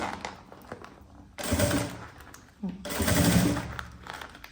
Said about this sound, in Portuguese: Eu vou passar uma costura aqui primeiro, ó, entro aqui, vou passar uma costura nessa parte aqui reta, até lá o final.